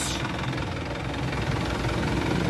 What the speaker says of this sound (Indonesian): ini suara mesinnya